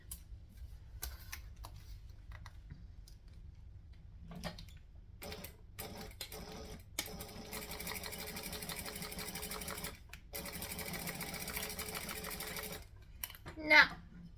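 A sewing machine stitching a vinyl handbag runs in bursts of steady rapid ticking and whirring, stopping and starting several times at close range, with faint talk and background noise between the runs.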